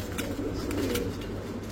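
A pigeon coos at a busy pigeon market, giving a low, throaty, rolling call. It sounds close and steady over a dense background murmur.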